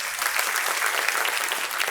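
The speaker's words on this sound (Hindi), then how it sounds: "तालियां बजती रहे देवी और सज्जनों" Studio audience at a television quiz show applauding, a dense, steady wash of clapping hands that continues without a break throughout.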